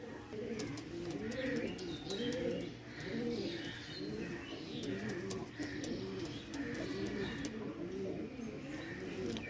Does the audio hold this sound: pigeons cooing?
yes